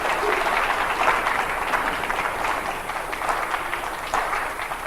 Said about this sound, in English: Give them another round of applause, everybody.